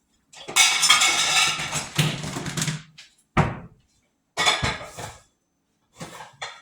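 Glass Pyrex pie dish and metal cutlery being handled, giving a cluster of clatters and clinks in the first few seconds, then separate sharp knocks and a short final rattle, close by with no speech.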